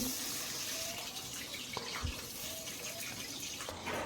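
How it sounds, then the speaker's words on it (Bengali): Diced medium potatoes frying in hot white oil in a pan, a soft, continuous close sizzle and hiss at low level, with a few faint clinks. "এখন এই আলুটাকে ভালো করে ভেজে নেব।"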